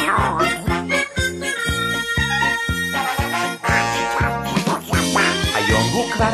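A singer imitates Donald Duck-style duck quacking in a Hebrew children's song, repeated rhythmic quacks riding over a steady drum beat and busy backing music.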